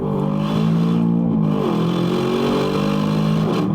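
An Aston Martin DBX 707 SUV accelerates hard, its engine note rising and holding loud and close with a brief dip partway through as revs shift.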